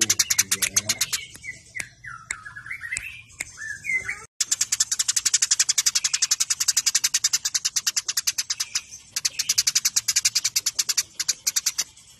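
House sparrow (church sparrow) song: loud, close, rapid chirping that repeats in a fast, tight rhythm, with a short gap partway through and then steady strings of sharp chirps to the end, with no talking.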